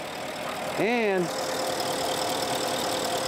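A 2008 Porsche Cayenne GTS with a 4.8-litre naturally aspirated V8 idles with a steady, even rumble throughout, while a voice briefly says a single word.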